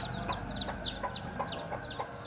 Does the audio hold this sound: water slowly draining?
no